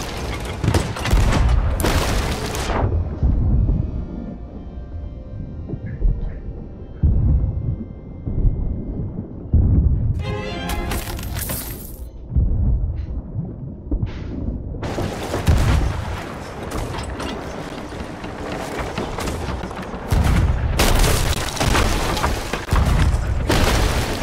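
Cannon fire from ships in the pirate video game Sea of Thieves: several loud, booming blasts in bursts, with rumbling impacts between them and sparse talk.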